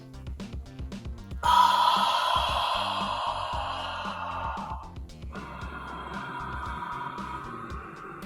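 A Bikram yoga student performs pranayama deep breathing incorrectly, with long, loud, forced breaths drawn in and pushed out close to the listener, separated by brief pauses.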